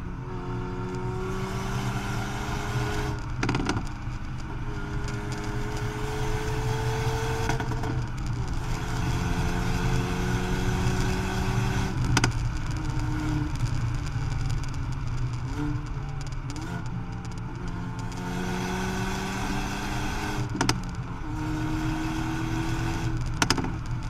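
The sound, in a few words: Hyundai i30 N exhaust sound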